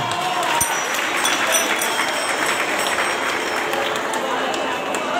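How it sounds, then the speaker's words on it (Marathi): An audience at a wedding anniversary celebration applauds in a continuous, fairly loud patter of many hands, with a murmur of crowd voices underneath. "सगळ्यांनी एकदा टाळ्या वाजवा."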